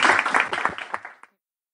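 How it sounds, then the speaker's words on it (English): Audience applause at a Black culture and history festival, a dense wash of clapping that fades out over about a second and stops abruptly. "And can we give Whitney a round of applause?"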